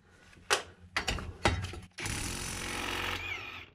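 A Metabo HPT Hikoki WR36DB 36V multi-volt cordless 1/2-inch impact wrench breaking off a bolt on a junk motor: a few sharp clanks and short bursts, then a loud sustained hammering rattle that stops abruptly.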